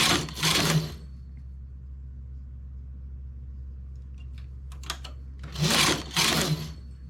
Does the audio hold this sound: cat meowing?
no